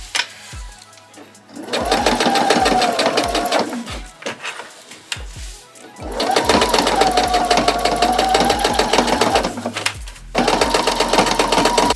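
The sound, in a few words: sewing machine stitching denim skirt seam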